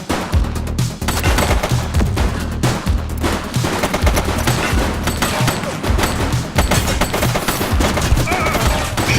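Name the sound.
gunfire in the video game The Precinct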